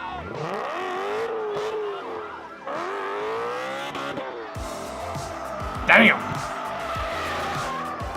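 Tires squeal loudly as a car spins donuts, the screech rising and falling in long sweeping arcs under a constant engine roar, with a brief sharp burst near the middle.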